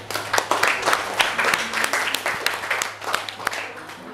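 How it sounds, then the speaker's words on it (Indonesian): A classroom of students claps for a classmate after a reading, a brisk burst of many hands with sharp individual claps standing out, close by, with a low steady hum underneath. "Tepuk tangan untuk Budi."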